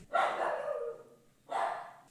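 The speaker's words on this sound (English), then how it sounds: "And my dog is barking outside." A dog barks outside, two separate barks with a short pause between them, moderately distant and fairly faint, with no talking over them.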